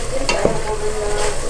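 Pochero, a Filipino stew, being stirred in a pot while it cooks, with a spoon scraping and clacking against the metal over a steady low sizzle.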